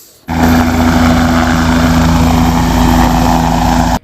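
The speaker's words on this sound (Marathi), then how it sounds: "आज शरद पवार व मंत्री छगन भुजबळ यांचं हेलिकॉप्टर एकाच हेलिपॅडवर आल्यानं शरद पवार उडाले आणि मंत्री छगन भुजबळ आले" A loud helicopter engine and rotor drone starts abruptly at a helipad, holds a steady, throbbing hum for several seconds, then cuts off.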